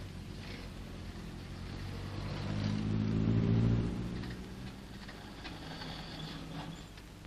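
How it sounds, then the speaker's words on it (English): Military vehicles driving into cover, a steady low engine rumble that swells as one passes close by, then settles back to a moderate drone with no talk. "Note particularly how all the vehicles drive immediately well under cover."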